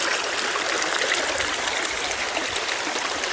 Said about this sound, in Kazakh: Мынау Сат ауылына таудан ағып келіп жатқан су.